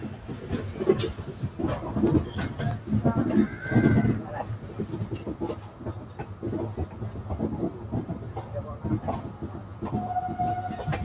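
A passenger train departs Daund Junction while a WAG9 freight locomotive waits on the next track; steady close rumble and rattling wheel clatter fill the scene, with voices and station noise mixed in and a brief higher tone near the end.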